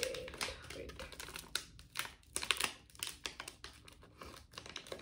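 A Jolo Chip packet, the one-chip-challenge snack, is handled and torn open, giving dense crinkling and rustling of foil-like packaging with scattered crisp crackles across several seconds, fairly close and without speech.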